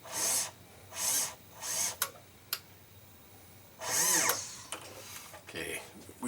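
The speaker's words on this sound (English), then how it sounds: "drilled a hole straight through." A bench jeweler's drill bores straight through a jewelry piece set in shellac, with several short whirring bursts of similar length separated by brief pauses, plus a few sharp clicks, fairly close and moderately loud.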